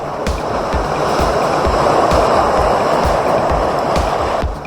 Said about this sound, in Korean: 와우 파도 죽입니다